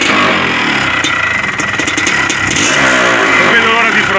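A 1979 SWM TF1 250 motorcycle engine catches and revs loudly and close, a continuous raspy two-stroke roar with rising and falling throttle blips filling the whole stretch.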